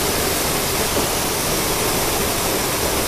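Loud, steady roar of a forest waterfall, continuous broadband rushing water close by with no break across the whole stretch.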